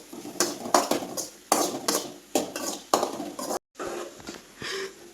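A utensil scraping and knocking against a pan while food is stirred, loud close strokes repeating in a rough rhythm of short scrapes and clatters.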